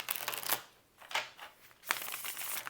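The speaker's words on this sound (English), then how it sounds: "I'm going to shuffle a couple times." Soft riffling bursts of cards being shuffled, three quick passes separated by short pauses, close and quiet.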